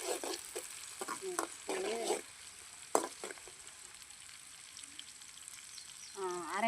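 Green chillies sauté in a pan for village-style thakkali thokku, with soft sizzling and intermittent stirring clatter, brief scraping bursts and a short voice near the end.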